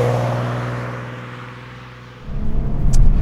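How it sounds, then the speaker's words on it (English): A 2015 Infiniti Q60S V6 sport coupe engine hums at a steady low idle, then rises into a loud, deep revving burst that builds toward the end, close by with no talk over it. "Love that sound. That motor is epic."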